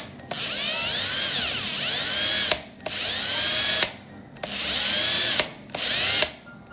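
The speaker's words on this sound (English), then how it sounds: "So what I'm gonna do is just gonna drill this, okay, and widen it a little bit." Power drill boring out and widening a hole in a plastic Toyota engine cover, whining in four bursts separated by short pauses, pitch sweeping as the bit bites and frees up.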